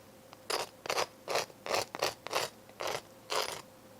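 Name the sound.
knife scraping dry dark brown sugar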